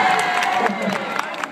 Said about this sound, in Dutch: Geef hem daarvoor een applaus.